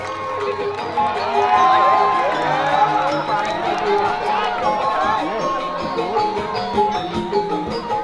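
A crowd at a Joged Bumbung dance performance from Buleleng at the 2019 Bali Arts Festival claps and cheers for the dancers, a loud mix of clapping, shouts and voices that swells early then gradually thins.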